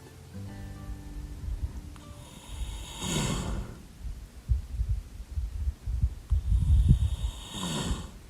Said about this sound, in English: That's the sound of a sleeping baby Mustang